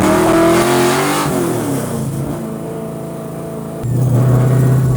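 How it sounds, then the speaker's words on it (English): A car revving and accelerating on a test drive around the block after a limited-slip differential swap, loud and close, engine note rising, dipping through a shift and climbing again. "Now it's time to take a little test drive."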